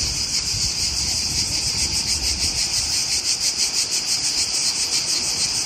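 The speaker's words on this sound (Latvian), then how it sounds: "Tās ir cikādas." Cicadas in Croatia trill in a dense, steady chorus, a loud pulsing buzz that fills the whole clip with no voices over it.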